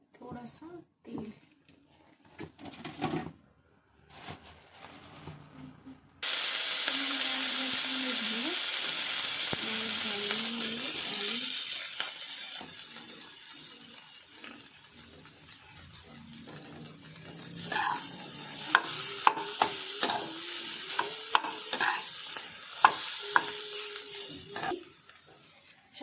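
A paratha fries in oil on a pan with a loud, steady sizzle that starts abruptly, while someone talks over it in quiet stretches.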